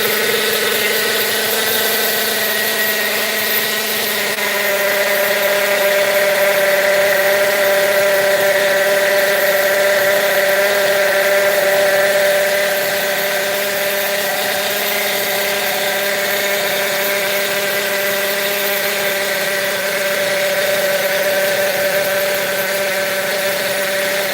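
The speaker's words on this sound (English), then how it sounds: "Let it warm up a little bit. This engine being new like that, it just, I guess it's got so much pinch, it just likes to turn off." A new Kyosho GT1 nitro RC car engine idles while warming up, giving a loud, steady buzzing drone with a strong hum that holds throughout, swelling slightly mid-way, with no talk.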